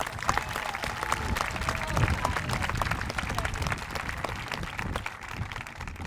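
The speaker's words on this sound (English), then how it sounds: "with a round of applause" Steady applause from a crowd at a middle school promotion ceremony, dense and continuous clapping filling the room at an even level throughout.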